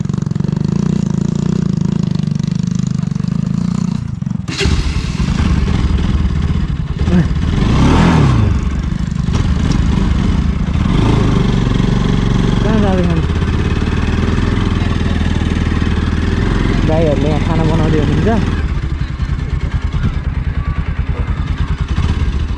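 A modified motorcycle engine runs close by, idling roughly and then revving in several throaty surges, with faint voices in the background.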